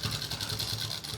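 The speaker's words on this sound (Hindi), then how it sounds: "इसको ऐसे रखेंगे किनारी पे और ऐसे लगाएंगे इसकी किनारी पे सिलाई" Sewing machine stitching along the edge of a pocket on cloth underwear, a continuous close, rhythmic whirring hum of steady stitching heard on its own.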